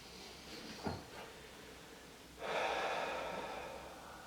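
Close, quiet breathing during a restorative yoga pose: a brief sniff-like inhale, a pause, then a long, soft, airy exhale that carries on to the end.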